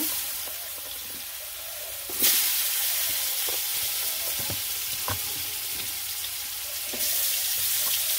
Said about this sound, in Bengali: এখন দিব একটু আলু এখন আলু ভেজে নিব